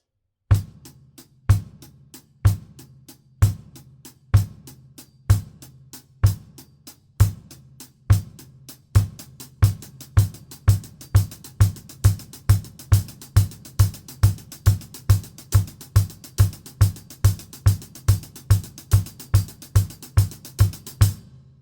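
A drum kit plays triplet strokes with a bass drum beneath each group. It starts in spaced, evenly timed clusters, then runs continuously as a fast, loud, driving stream of close snare hits over a steady low thump.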